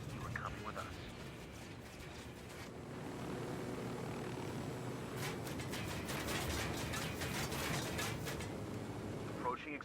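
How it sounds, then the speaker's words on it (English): A helicopter in the video game Ghost Recon Wildlands gives off a steady, loud rotor and engine drone through the whole stretch, with faint voices and game effects mixed underneath. "We really want to keep our helicopter here"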